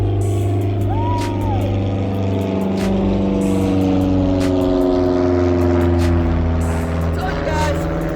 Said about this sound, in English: there's a plane going on overhead.